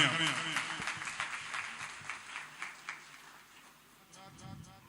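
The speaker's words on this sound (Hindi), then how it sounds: "मैं फिर से चाहता हूं एक बार जोरदार तालियों से इस्तकबाल करें आप" A mushaira audience applauds with a brief burst of hand clapping that fades over a few seconds. Talk rises over it as the clapping dies away.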